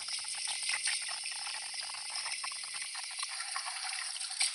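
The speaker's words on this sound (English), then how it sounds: "Make sure this is thoroughly rinsed out." Water splashes and swirls while a foam cannon bottle is rinsed out, a steady close sloshing and trickling hiss.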